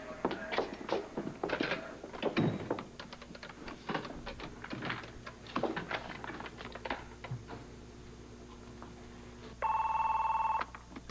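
A telephone rings once with a steady electronic trill near the end, after a stretch of clattering keys and soft background noise.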